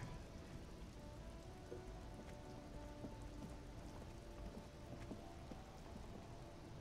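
Steady rain patters on a surface in the video game Disco Elysium, a soft continuous hiss with scattered drips, heard quietly and alone.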